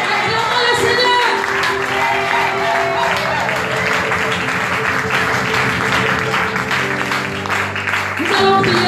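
A church congregation applauds and acclaims during a French-language worship service, loud continuous clapping and crowd noise mixed with sustained musical tones throughout.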